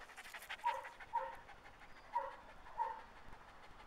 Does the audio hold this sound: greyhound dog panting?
yes